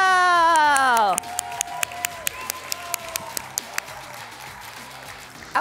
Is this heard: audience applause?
yes